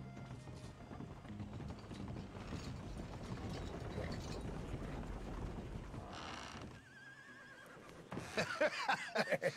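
Horse in the video game Red Dead Redemption 2 whinnies and clops its hooves amid creaking, ratcheting mechanical noises. A brief quiet gap follows, then sharper hoof and gear clatter close by.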